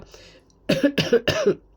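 Three quick, harsh coughs in a row, close and loud, after a short quiet pause.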